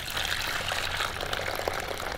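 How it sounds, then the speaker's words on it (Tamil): Water pours steadily into flour for Malabar parotta dough, a continuous close splashing wash lasting the whole moment, with no talking. "தண்ணி விடணும்."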